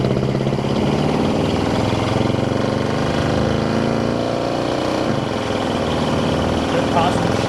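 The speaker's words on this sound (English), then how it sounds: "we'll go ahead and get in the throttle" A 1997 Ford F-350 XLT pickup with a 460 engine and automatic transmission pulls under throttle, its steady engine drone filling the cab with a gradual pitch rise, while someone talks over it.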